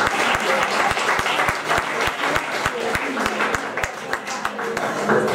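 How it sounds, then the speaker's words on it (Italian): An audience at an Italian book presentation breaks into applause, dense clapping with a few sharp individual claps standing out close by, while a voice talks faintly underneath. "E anche si scatta l'applauso"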